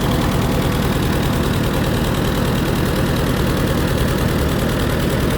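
An Allis-Chalmers WD45 tractor engine idles steadily with fresh spark plugs fitted after fouling from running rich, giving a continuous close rumble with a faint regular knock and no talking.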